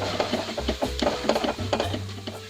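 A spoon stirs brown sugar into an orange chicken sauce in a pan, scraping and clinking in a quick, steady rhythm close up, with no voices.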